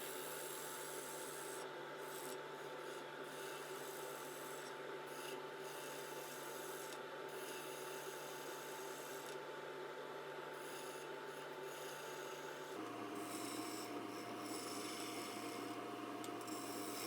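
Steady rasping scrape of a tool hollowing spinning wood on a lathe, continuous and fairly quiet, with a low motor hum underneath that drops in pitch partway through.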